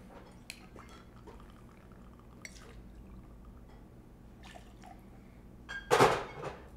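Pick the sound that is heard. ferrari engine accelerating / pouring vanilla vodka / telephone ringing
pouring vanilla vodka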